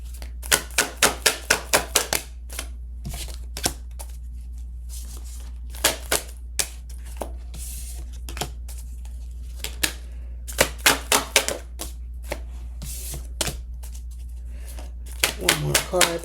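Tarot cards being shuffled and drawn: crisp papery flicks and snaps come in quick clustered bursts, then sparse single taps, close and fairly loud over a steady low hum.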